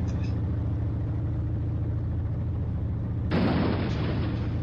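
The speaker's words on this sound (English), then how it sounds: "This cannon, it controls so badly." A single loud cannon blast in the BeamNG driving game, firing late over a steady low vehicle engine drone and settling into a sustained broadband roar.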